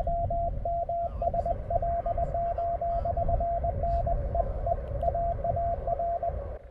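Morse code keyed on amateur radio, received through a random-wire antenna with a choke: a steady stream of short and long tone beeps in rapid rhythmic groups over a loud hiss of band noise and static.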